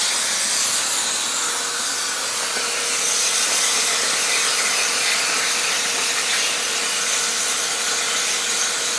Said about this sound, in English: So slightly over 1/8 inch thick steel here. On a 120 volt plasma cutter.